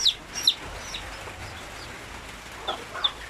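Nearby RTL Basilan chickens with newly hatched chicks give a few soft, sparse clucks and peeps over quiet farmyard background noise.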